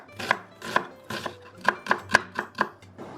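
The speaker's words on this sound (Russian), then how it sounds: "Небольшими кубиками режу красный лук." A knife chops red onion into small cubes on a cutting board, about nine crisp evenly spaced thuds at a brisk, steady pace, close and clear with no talk.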